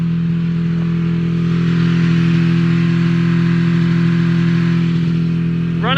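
Vintage Polaris snowmobile engine with a freshly rebuilt fuel pump runs steadily at a loud, close idle, a constant droning hum with a brief high whine near the end.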